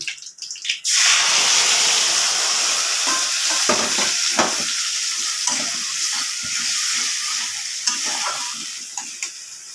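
Ground chili spice paste drops into a hot frying pan of oil for a potato and chickpea curry, bursting into a loud, steady close sizzle that continues with a few scraping stirs.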